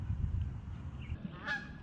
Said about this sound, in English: Some Canadian geese are not a fan.